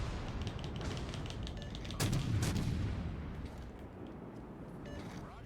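Heavy warship guns boom in the naval battle game World of Warships Legends, one loud blast standing out amid rumbling battle noise and scattered distant shots.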